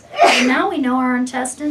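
A single sneeze bursts out close and loud at the start, and a person keeps talking right after it.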